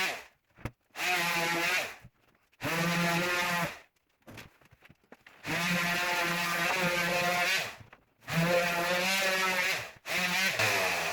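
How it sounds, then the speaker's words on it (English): An Octo power sander fitted with cheap 120-grit Harbor Freight pads, sanding freshly cut wood edges in a workshop, a loud buzzing whine running in several long bursts separated by short silent pauses. "Octo sander with just some cheap Harbor Freight sanding pads on it, about 120 grit."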